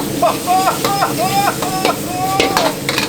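Beef stir-fried with green onions and lemongrass in a Vietnamese eatery kitchen, a loud sizzle with repeated metallic scraping and tossing strokes in quick rhythm, plus squeaky tonal scrapes of the utensil on the pan.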